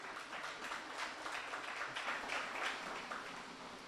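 An audience at a talk on the October 1917 revolution and Haiti gives soft, continuous applause, a faint distant wash of clapping with no voices over it.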